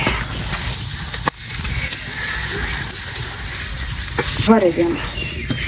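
Fish frying in a pan gives a steady sizzle with a faint clatter, and a voice speaks briefly over the sizzling.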